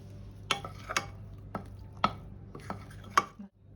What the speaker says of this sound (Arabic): هنزل بقى بتاني كوبايه من الدقيق وهقلب